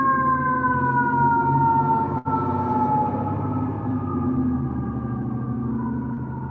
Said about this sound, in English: I don't know why there's a lot of siren at this time.